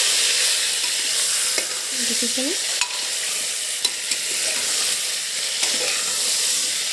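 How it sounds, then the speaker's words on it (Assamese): Goat meat frying village-style in a pressure cooker, a steady loud sizzle with occasional clicks and scrapes of stirring, and a brief spoken word partway through. "মাংসখিনি কুকাৰটোত দি দিছোঁ, আৰু মাংসখিনি খুব ভালদৰে ভাজিব লাগে।"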